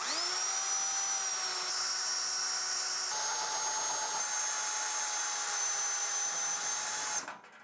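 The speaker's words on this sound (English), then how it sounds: "drilling out those 4 rivets made it so we can flatten the hard drive cage" A power drill whines at high speed as it drills out metal rivets on a PC case drive cage, its pitch shifting under load before abruptly stopping at the end.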